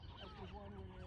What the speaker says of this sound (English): I feel like we are disturbing the gulls quite a bit